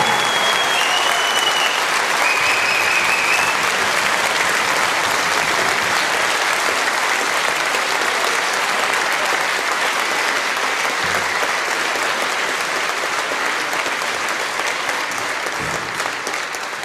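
A snooker crowd applauds the winner of the Paul Hunter Classic 2013 final, steady sustained clapping from a full hall that holds at an even level throughout.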